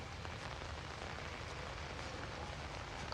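Rain falls in the horror video game Outlast as a steady, even hiss of drops on surfaces. It stays quiet and constant throughout, with no voices.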